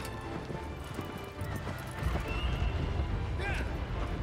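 A horse's hooves clip-clop at a steady trot in the Shadow of the Colossus video game, rhythmic and fairly close, over a continuous ambient background.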